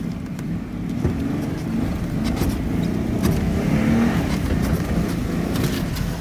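A Jeep crawls along an off-road trail, its engine giving a steady, close, low rumble for the whole stretch with no talking.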